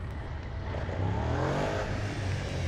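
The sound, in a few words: Suzuki SV 650 motorcycle engine revving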